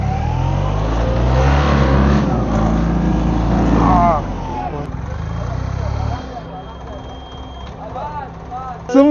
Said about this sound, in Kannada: ಸ್ನೇಹಿತರೆ, ಇವ್ರದಿಲ್ಲಿ ಟೆಂಪೋ ಸಿಕ್ಕಾಕೊಂಡ್ಬಿಟ್ಟಿದೆ ಅಂತ ತಳ್ಳಕ್ ಹೋಗ್ತಾ ಇದೀವಿ.